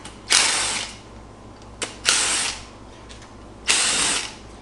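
A hand ratchet loosens valve cover bolts on an LS engine going into a 1969 Camaro, giving three bursts of rapid clicking with brief pauses between them, close up and clear.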